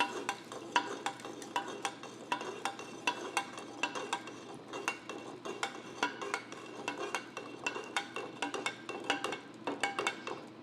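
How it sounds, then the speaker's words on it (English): Hot 4140 steel quenched in a container of oil gives off continuous crackling sizzle with dense, irregular bursts of popping and bubbling, fairly close and steady throughout, with no voices. "I've got some oil here that we're going to quench this in"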